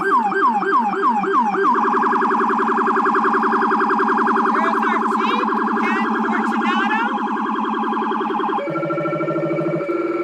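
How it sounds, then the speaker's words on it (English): A loud fire truck siren wails and cycles rapidly, then shifts into a steady warbling tone and a lower yelp near the end, close by and continuous, at a Fourth of July parade in Hoffman Estates. "every time you hear the fire sirens"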